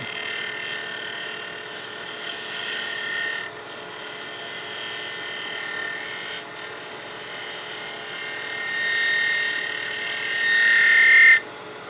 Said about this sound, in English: So I'll come over here and do a nice bevel riding cut.